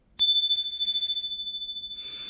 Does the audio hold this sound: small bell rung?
yes